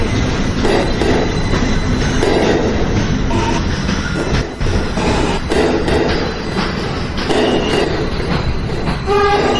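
A Manhattan-bound NYC subway J local train runs steadily and loudly throughout, with rumbling wheels, rhythmic clickety-clack over rail joints and occasional brief squeals, heard from on board with no talking.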